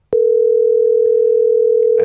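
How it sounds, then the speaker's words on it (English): A telephone line gives a single continuous steady ringback tone for nearly two seconds, loud and clean, before a faint voice starts at the very end. "It's ringing."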